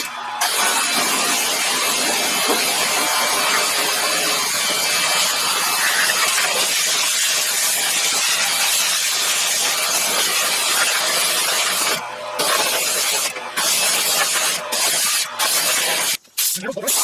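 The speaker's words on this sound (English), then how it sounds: "now I'm going to clean up the frame, again with some degreaser and a power wash" A power washer sprays degreaser off a Honda TL125 motorcycle frame during a restoration, making a loud, continuous hissing spray with a few short breaks near the end.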